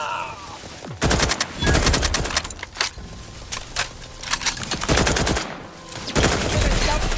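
Gunfire in The Outer Worlds 2, rapid bursts of automatic shots in repeated loud volleys separated by short pauses.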